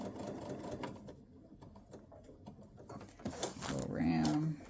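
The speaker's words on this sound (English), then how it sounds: "Put that down, and we're just going to stitch over that again." Sewing machine stitching back over a seam on fabric game board pieces, a steady rapid mechanical whir with a voice talking over it near the start.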